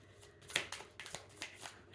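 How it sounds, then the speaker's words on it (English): A thick cardstock tarot deck being shuffled, with a series of soft riffling, papery flutters and slaps spread across the moment, fairly quiet and close. "It's a hard deck to shuffle. Cardstock is really thick"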